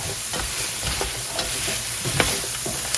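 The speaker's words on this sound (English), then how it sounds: "I'm going to add my celery, my parsley, and my parsley stalks. Everything goes in. I'm going to give it a good mix." Celery, parsley and parsley stalks get mixed in a pot for a Thanksgiving one-pot dish, giving a steady close sizzle with irregular scraping and clattering stirs throughout.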